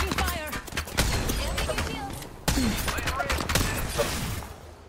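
Gunfire in the video game Apex Legends, a dense run of sharp cracks and bursts nearly throughout, with a brief lull midway, mixed with game effects and talk.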